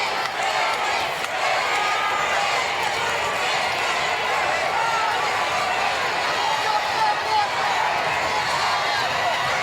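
Rival cheering sections roar throughout a CES boxing match between Kevin Walsh and Ricky De Los Santos, a loud, continuous crowd din of shouts and whoops with scattered clapping and voices mixed in.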